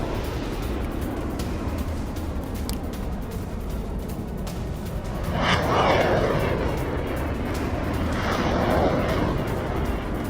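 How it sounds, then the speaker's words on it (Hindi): HIMARS rockets fired one after another at Russian positions: two loud roaring whooshes a few seconds apart rise and fade over a constant rumbling background. "यूक्रेन ने एक के बाद एक दागे रॉकेट्स विद द विजुअल।"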